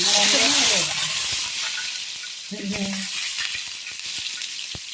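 Curry leaves sizzle loudly in hot oil while a prawn curry with mango and jackfruit seeds cooks; a bright, close crackling hiss with a brief voice speaking over it early on.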